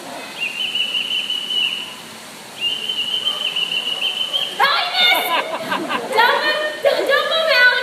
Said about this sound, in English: I'm going to whistle and a bird's going to land right there